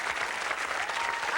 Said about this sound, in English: Applaud for me, I'm brilliant